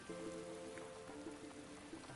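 Steady rain falling on surfaces in the dinosaur-ranching video game Paleo Pines, a soft continuous patter with faint game music tones drifting over it.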